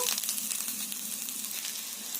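Steady, close frying sizzle of onion and potato in a pan, a constant crackling hiss with no voices.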